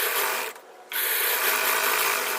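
A sewing machine stitches a blouse hem, a steady mechanical whir with a rapid ratcheting rattle that drops out briefly and then resumes, close and continuous.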